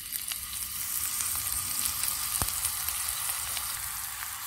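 Chicken pieces dipped in chicken broth hit a hot frying pan for Turkish islama chicken, giving a steady, close, hissing sizzle with fine crackles and one soft clunk midway.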